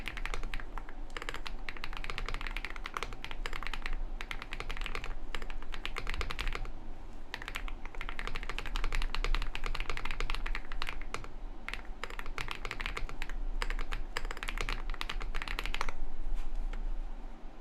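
Crackly computer keyboard keycaps clatter through a fast typing test: dense, continuous clicking keystrokes with brief pauses, close and fairly quiet.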